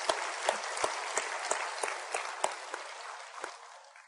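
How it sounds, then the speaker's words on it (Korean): A church congregation at a Sunday service in Jeonju claps in thanks to God, a steady, moderately distant wash of applause with a few louder individual claps standing out at a regular pace. "하나님께 감사의 박수를 드리겠습니다"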